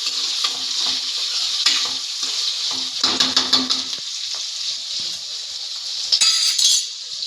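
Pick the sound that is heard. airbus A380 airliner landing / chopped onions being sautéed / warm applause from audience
chopped onions being sautéed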